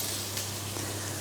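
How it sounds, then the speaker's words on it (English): Butter sizzles in a hot stainless steel pan, a steady bright hiss with a low hum beneath, continuous and fairly close throughout a short stretch. "once the pan's got a little bit of heat to it, throw in 30 grams of butter"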